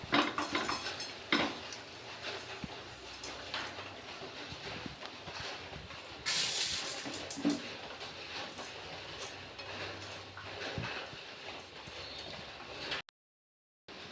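Fried flattened rice and coconut are scraped out of a pan into a bowl with a spoon, giving irregular close clattering knocks and scrapes, a few louder clanks, then sudden silence.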